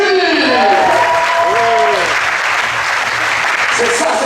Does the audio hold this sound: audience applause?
yes